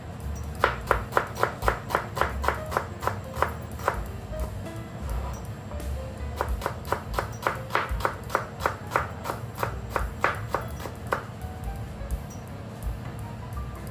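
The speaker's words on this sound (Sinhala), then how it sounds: "ඊට පස්සේ අපි කපාගමු අපේ සුදු ලුණු ටික මේ විදිහට." Garlic chopped with a knife on a board, two runs of quick, evenly spaced crisp knocks, close and clear, separated by a short pause.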